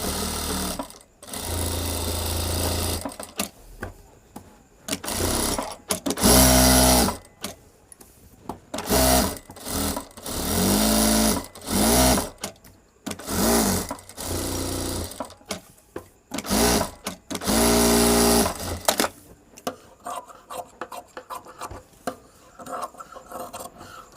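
Domestic sewing machine stitching the back of a princess-cut blouse, run in repeated loud bursts of fast whirring with short pauses between, slowing near the end as it carefully crosses a seam joint.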